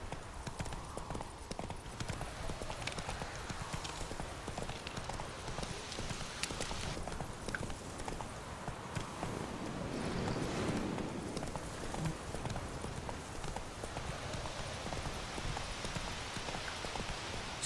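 Roach the horse in Witcher 3 trotting along with steady, rhythmic clip-clop hoofbeats, moderately close and continuous throughout, with a faint ambient bed beneath.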